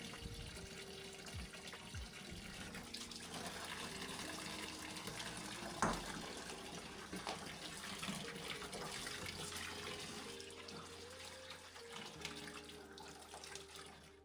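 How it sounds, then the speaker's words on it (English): A garden hose sprays fresh water over cold plunge tub parts, a steady hissing, splattering rush with shifting tone as the stream moves, fairly faint and continuous with a brief knock midway. "Then I'm just gonna take my hose with fresh water and just rinse them all out."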